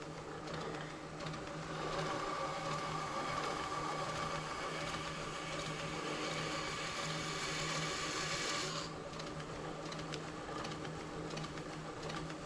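A low-RPM grinder re-grinds a wood carving tool with a steady, faint motor whir and a light gritty grinding sound that continues evenly before easing slightly near the end.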